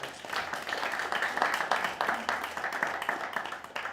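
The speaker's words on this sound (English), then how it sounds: "give a round of applause for our first time" An improv comedy audience applauds steadily for several seconds, many hands clapping densely at moderate loudness, with a voice faintly underneath.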